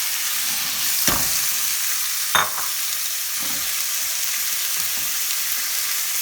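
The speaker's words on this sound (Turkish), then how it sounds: "Şimdi balığımızı içine boşaltıyorum." Salmon sizzles steadily in a hot pan, with a couple of sharp scrapes and clinks of stirring over the constant frying hiss.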